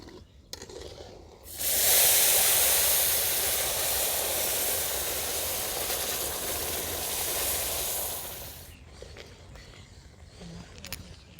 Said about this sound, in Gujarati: હવે આપણે આમાં દૂધ નાખશું.